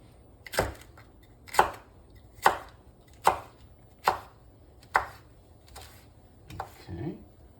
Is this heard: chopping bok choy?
yes